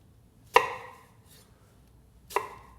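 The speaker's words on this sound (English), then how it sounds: "I'll put it face down, and then with my knife, I'll just cut" Two crisp knife cuts through an apple half laid face down, each striking a wooden board with a sharp thunk and a short ringing tail, about two seconds apart, close and clear against near silence.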